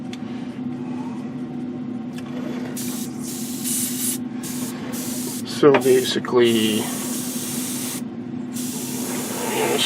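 An airbrush sprays paint onto a 1/32 Eduard BF-108 scale model kit, producing a steady, close hiss throughout while a person briefly speaks midway.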